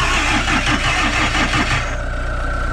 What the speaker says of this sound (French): Il est pas violent le démarreur